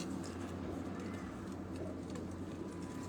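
Pigeons cooing on a rooftop, soft repeated low coos rising over a steady hum of distant traffic and ambient noise throughout.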